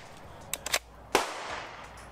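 A Hi-Point 1095 10 mm pistol fires several close, sharp shots, a quick cluster of three followed by a louder one that rings out and decays.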